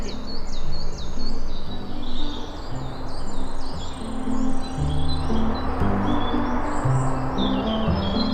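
Dawn chorus of many birds singing at once, dense overlapping chirps and trills filling the air continuously, with a steady insect-like hum beneath and no voices.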